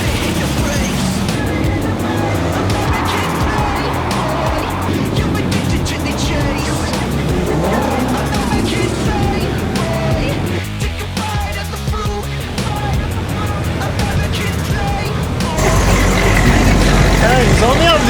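Powerful cars of over 400 horsepower drive past outdoors at a US motor show, engines rumbling and revving at close range, with a louder roar near the end while people chat nearby.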